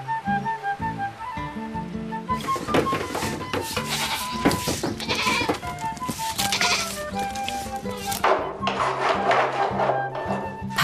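Goats bleating in their pen on a small island near Tongyeong, with repeated overlapping calls of varying pitch, close and loud, along with some wooden knocking and rustling as the pen is cleaned.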